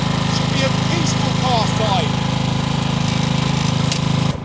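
A small lawn mower engine runs in a loud, steady drone throughout, with a voice talking over it.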